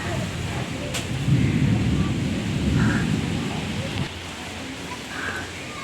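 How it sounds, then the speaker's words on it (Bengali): Gusty storm wind roars against the microphone in surging bursts, loud and rough, then eases slightly near the end. "কি ঝড় উঠেছে"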